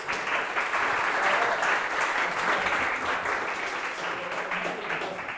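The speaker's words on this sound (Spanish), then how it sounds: "Aplausos, por favor, para que se animen." Steady audience applause fills a room at a Global Game Jam venue, dense and continuous for several seconds at moderate loudness, tapering slightly near the end.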